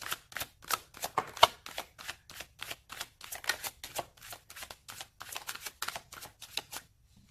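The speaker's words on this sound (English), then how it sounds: "Let's pull a card for your spiritual space." Tarot cards shuffled and pulled in a steady run of crisp, riffling snaps and flicks, close and fairly quiet, each burst a quick papery slap.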